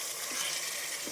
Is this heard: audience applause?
no